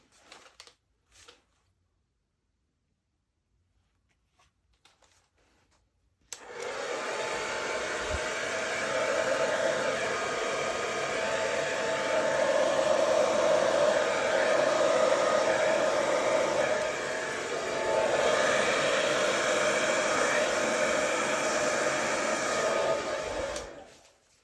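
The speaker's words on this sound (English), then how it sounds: "I'm going to use my hairdryer to blow up in that direction" After a few seconds of quiet, a hair dryer switches on and blows continuously at close range across wet acrylic pour paint, a loud steady whooshing hum that runs to the end.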